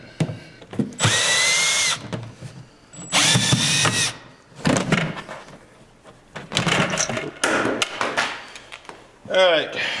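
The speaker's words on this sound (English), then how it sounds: "you want to remove these 6 screws that hold the bottom cover plate off" A power drill backs out screws from the bottom cover plate of a Kaivac 2150, running in several loud bursts of a few seconds each with short pauses between them and faint handling sounds in the gaps.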